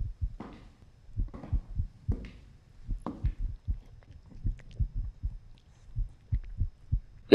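Low, thudding heartbeat in a scary horror video game, repeating in a steady double-pulse rhythm, close and dominant with faint higher clatter in the background.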